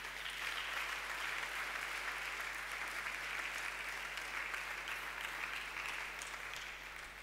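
A church congregation bursts into sustained applause at a Sunday worship service, a dense steady wash of clapping that holds for several seconds and fades slightly at the end.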